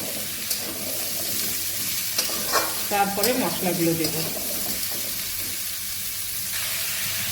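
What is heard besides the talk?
potatoes and cauliflower frying in a pan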